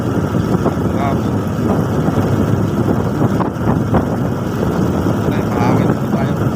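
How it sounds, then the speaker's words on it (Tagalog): Strong wind buffets the microphone with a constant roaring rumble, steady and loud throughout the clip. "Ay, mahangin po tayo."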